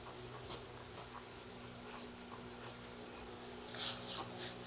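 A steering wheel gets scrubbed with a Scrub Ninja cleaner, making a faint, continuous rubbing and brushing sound with soft uneven strokes and no talk.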